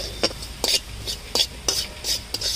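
Half a bowl of semolina is stirred in hot ghee in a pan. About seven quick, rhythmic scraping strokes sound up close, each a short gritty rasp with a hissy edge.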